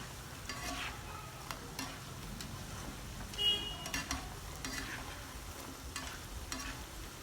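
Shakarpara, a Diwali snack, frying in hot oil while being turned and stirred, with a steady close sizzle broken by repeated scraping stirs and a few louder clinks.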